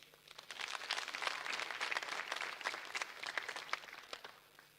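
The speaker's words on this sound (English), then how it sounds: "Let's give him a better hand of applause, please" Audience applause at an election update event in Kenya, a dense, steady patter of many hands clapping at moderate distance for several seconds before fading.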